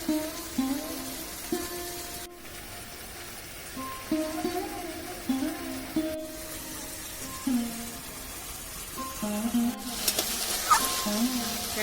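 Chicken legs and potatoes frying and being stirred together in a pan, with steady sizzling under repeated scraping stirs and short gaps, at close range.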